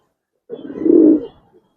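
A single soft, low coo from a nearby Giribaz pigeon, rising and holding for under a second before fading, with near silence around it.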